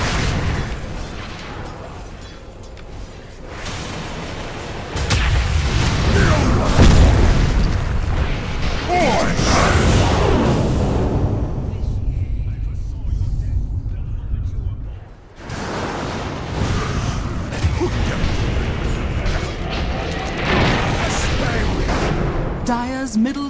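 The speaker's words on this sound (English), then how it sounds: "Dire's middle tower is under attack." A Dota 2 tower comes under attack amid explosions, with repeated heavy booms and bursts of battle noise that swell, briefly drop away and resume, and in-game voices surface among them.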